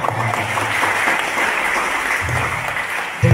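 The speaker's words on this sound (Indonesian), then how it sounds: "Tepuk tangan." A crowd applauds steadily at a school gathering at MAN 1 Blitar, Indonesia, a dense wash of clapping that stays loud throughout, with a brief low voice-like murmur mixed in.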